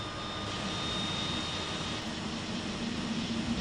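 A DHC-6-300 Twin Otter's right turboprop engine starting up in the FSX flight simulator, a steady loud engine drone with a thin high whine that holds evenly throughout.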